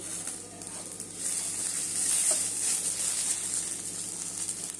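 Food fries in oil in a pan for a vegetarian gravy, a soft, steady sizzle heard up close with faint stirring and an occasional pop, no voices.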